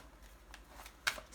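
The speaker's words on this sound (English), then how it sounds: "You guys saw, heard me shuffle." A deck of tarot cards is shuffled close by, soft papery riffling building to a crisp flutter near the end, quiet and without talk.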